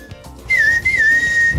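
A man gives a single sustained, clear whistle as a signal to the pigeons on his balcony, close and loud, holding a steady pitch for about a second with a slight wavering dip.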